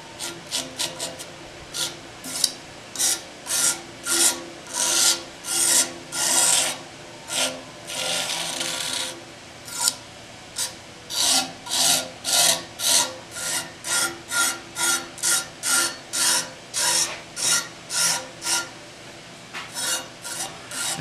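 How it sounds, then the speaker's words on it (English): Clay is scraped thin along a blade in a long run of loud, close, rhythmic rasping strokes, each a short scrape followed by a brief pause, with no talk. "you're also scraping off big chunks and stuff like that"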